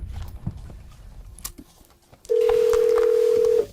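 A steady telephone tone sounds while a call is placed, loud and continuous for over a second after some quiet handling noises and faint clicks, with no speech.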